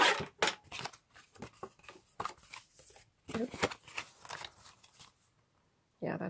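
Scissors cut iridescent paper for a handmade card in short snips and crinkles close by, sitting faintly under quiet talking and pausing between cuts.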